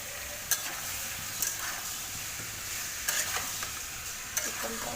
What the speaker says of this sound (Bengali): আলুটা একটু ভাজা হয়ে গেল, পেঁয়াজ এবার চিকেনটা একটু ভাজা হবে